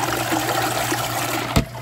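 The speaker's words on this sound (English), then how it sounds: "fresh cold water for the rinse cycle" Fresh cold water running into a washing machine for the laundry rinse cycle, a steady close hiss and trickle with a short thump near the end.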